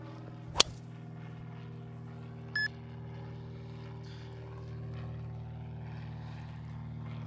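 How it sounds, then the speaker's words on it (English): An airplane passes over a golf course as a steady, distant low drone that persists throughout, with a sharp click early on and a brief faint beep partway through. "let it fly while we got the plane going over here"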